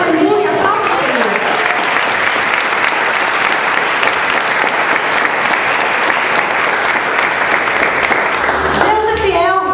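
A church congregation claps steadily and loudly in a dense, continuous wash of applause that holds for several seconds, with a voice speaking briefly at the start and end.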